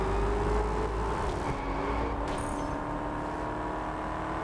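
A car engine roars and accelerates in the racing game Test Drive Unlimited Solar Crown, a steady loud motor drone with shifting pitch and a brief burst partway through, no talk.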